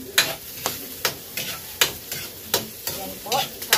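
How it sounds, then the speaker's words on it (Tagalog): Onions and vegetables sizzle in a pan while a utensil scrapes and stirs them in a quick, regular rhythm, each stroke a sharp close scrape above the steady frying hiss. "Sahog lang ng sahog para pantay-pantay yung luto."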